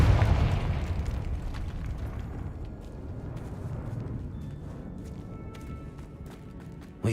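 A Confringo spell explosion in the Hogwarts Legacy video game opens with a loud boom that rumbles and slowly fades over several seconds, ending in a small sharp pop.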